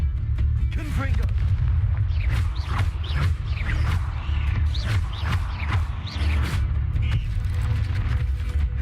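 Confringo spell explosions in the game Hogwarts Legacy make repeated booming bursts over dense, continuous combat noise and whooshing effects throughout.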